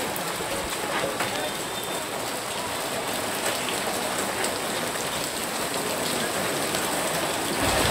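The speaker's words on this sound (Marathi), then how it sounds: "पाऊस काय थांबायचंच नाव घेत नाही." Dense, steady hiss of heavy rain pouring down close by, loud and unbroken throughout.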